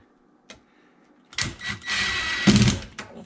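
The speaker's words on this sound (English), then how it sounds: "I'm just gonna use this drywall screw. We're just gonna make a little pilot hole." A drill drives a drywall screw to make a small pilot hole during cabinet installation, a brief whirring burst of about one and a half seconds after a faint click, close and fairly quiet.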